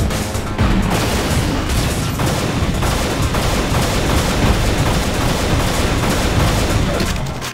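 Relentless, dense gunfire in the video game Unreal crackles without pause, rapid bursts layered into a continuous loud barrage with occasional heavier booms.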